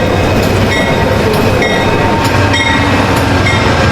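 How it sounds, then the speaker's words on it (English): A train pulling into a remote station and slowing rumbles loudly nearby with rhythmic clacking of wheels over rail joints, steady and heavy as the cars roll along. "The train pulls up into the station, out in the middle of nowhere."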